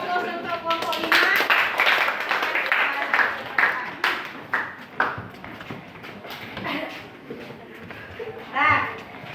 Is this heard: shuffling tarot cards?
no